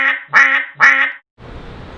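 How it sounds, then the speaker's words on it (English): Three loud, nasal duck quacks ring out close by in quick succession, followed by a short silence and then dull background noise. "That's a big quack."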